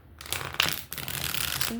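Tarot cards shuffled by hand in a deck, a rapid papery riffling flutter in a couple of close bursts with a brief break between them.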